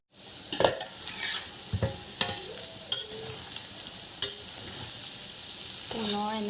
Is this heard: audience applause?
no